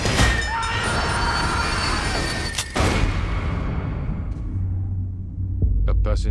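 A train runs on rails, rumbling and clattering loudly with a metallic screech and a sharp bang midway, then the roar fades and thins toward the end as low booms return.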